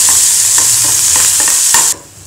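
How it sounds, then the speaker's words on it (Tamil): Onion, ginger and green chili sautéing in hot oil, a loud, dense close sizzle with rhythmic stirring scrapes that cuts off abruptly near the end. "அதில் வெங்காயம் இஞ்சி பச்சை மிளகாய் போட்டு வதக்கிக்கணும்"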